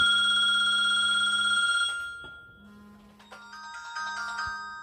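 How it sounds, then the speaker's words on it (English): In a home kitchen, a phone ringtone chimes loudly and close, a sustained electronic tone that fades and then plays again as a brighter melodic ring, with no voices. "My husband forgot his phone at home, so I have to keep answering it for him"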